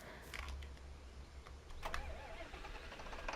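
A John Deere tractor engine in the Farming Simulator 22 video game cranks over and catches into a low, quiet idle, heard faintly and alone.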